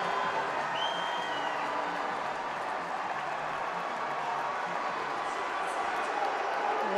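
Spectators at an ice hockey match between Lightning and Basingstoke Bison clap and murmur in a large arena, a fairly quiet, steady wash of applause and crowd noise with faint whistles and distant calls.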